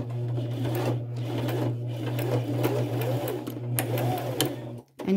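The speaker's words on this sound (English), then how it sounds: "And I will just stitch that about 5 or 6 times." A sewing machine with a denim needle stitches fabric to a leather belt for a purse, running steadily with a continuous motor hum and rapid needle rhythm for about five seconds before briefly stopping near the end.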